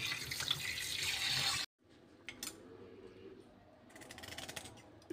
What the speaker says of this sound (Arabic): اغسل كل السمك